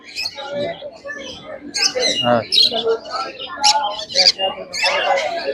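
Black-capped lories and other exotic birds at the Serampore pet market give sharp chirps and squawks, busy and fairly close, mixed with market chatter and voices throughout.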